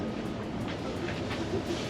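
An overnight passenger train between Istanbul and Sofia runs steadily, heard from inside the carriage as a continuous loud rumble with faint regular clicks of the wheels on the rails.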